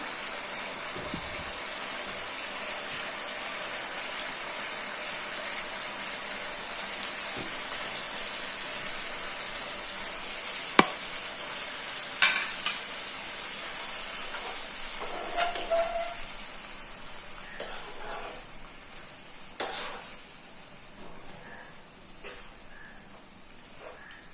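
Boiled plain pasta frying in a pan, a continuous crackling sizzle with scattered scrapes and clinks of stirring, one sharp knock midway, steady and close without voices.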